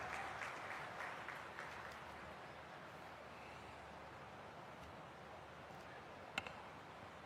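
Applause welcoming the Defence Minister at a hospital's 25th anniversary event, a dense, even clapping from a crowd that carries on steadily at a fairly soft level, with one brief sharp click near the end.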